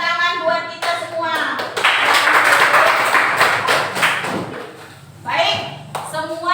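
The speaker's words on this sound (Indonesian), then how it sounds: "tepuk tangan buat kita semua" Clapping in a classroom as a class applauds its own group presentations, a broad sustained burst of hands lasting several seconds, mixed with children's voices and chatter, then fading as a teacher resumes talking.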